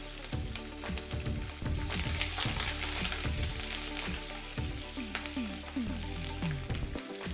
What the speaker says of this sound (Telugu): ఎండుమిరపకాయలు ఇలా పప్పుకెప్పుడు నల్లగా వేగాలి